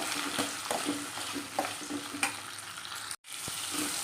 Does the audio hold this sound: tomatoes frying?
yes